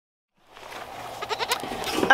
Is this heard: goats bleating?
yes